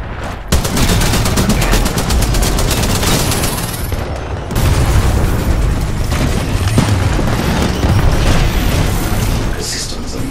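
Heavy gunfire in the video game Titanfall 2 pounds almost without pause: dense automatic bursts and booming impacts fill the whole stretch, loud and close, with one brief drop in the middle.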